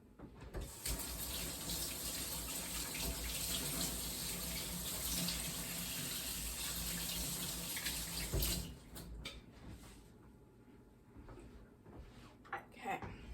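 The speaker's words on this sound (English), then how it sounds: "Wash my hands really quick." Tap water runs steadily into a kitchen sink as hands are washed, a loud continuous gush for about eight seconds before the faucet shuts off, leaving faint clinks and quiet movement.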